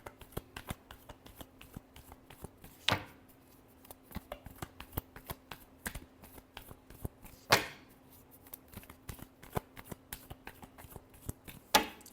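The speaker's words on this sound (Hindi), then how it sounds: "last shuffle" Tarot cards shuffled by hand: sparse soft ticks and taps punctuated by three brisk riffling bursts, close and fairly quiet, with no talking.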